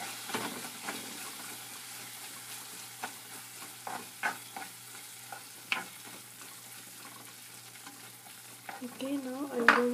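Bitter gourd curry with sambar powder sautéing in a pan: quiet, irregular spoon scrapes and taps over a faint sizzle, growing louder and busier at the end.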